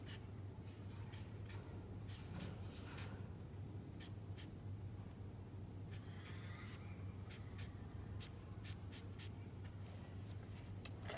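A pen scratches on paper while a small turbine diagram is drawn by hand, giving soft intermittent strokes and short taps over a quiet, steady low hum.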